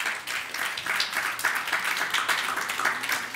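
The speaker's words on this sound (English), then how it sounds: "Give God a hand clap of praise." A church congregation claps their hands in praise, a steady wash of many hands sustained evenly throughout at moderate loudness.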